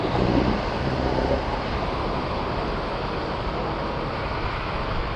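Loud, steady wind from Typhoon Carina roaring and buffeting the microphone, a constant rushing noise with no breaks.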